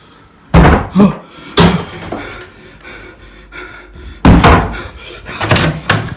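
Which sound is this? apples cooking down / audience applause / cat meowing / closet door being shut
closet door being shut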